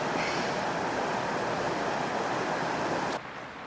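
A small waterfall spills into the end of Hutch's Pool, a long rock pool on Mount Lemmon's Pusch Ridge in Arizona, as a constant rushing hiss that drops sharply in level just before the end.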